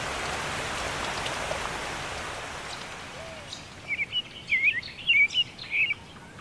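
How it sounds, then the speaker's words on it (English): Steady rain falls in a scene from the anime Monster, a constant hiss of drops, with bright bird chirps joining faintly near the end. "Just having this intense conversation all the while a child is just playing in the rain."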